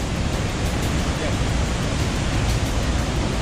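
Heavy, steady rush of strong water flow at Curug Maribaya waterfall, a dense broadband roar with no breaks, close and loud throughout.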